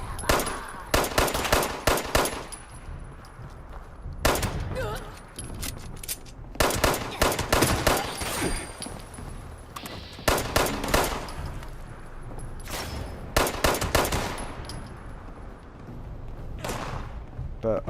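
Rapid bursts of automatic gunfire from the online video game Fallout 76, loud and close, coming in repeated volleys with short pauses between them and occasional thuds.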